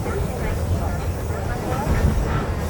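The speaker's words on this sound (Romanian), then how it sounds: "Trenul e destul de vechi." Old passenger train running through Vietnam, a steady rumbling roar of the carriage with low rhythmic clatter from the rails, heard from inside the car with no door, continuous throughout.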